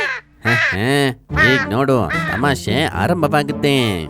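In a Kannada children's animation, a mother crow caws loudly in several harsh, drawn-out calls voiced by a performer, mixed with brief spoken dialogue.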